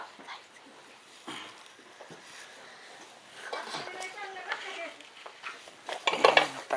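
Dishes and pots being washed clatter and scrape close by while people talk, with a sharp burst of clinking near the end.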